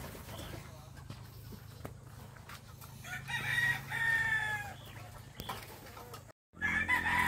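Roosters crow several times at a gamefowl farm, with clear, fairly loud calls rising over steady background hum and faint clucking of other fowl.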